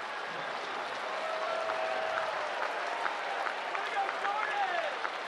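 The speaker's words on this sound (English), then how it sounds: "And listen to that applause." A baseball crowd at Kauffman Stadium during a Reds versus Royals game applauding in a steady, sustained wash of clapping and crowd noise, with a commentator talking over it.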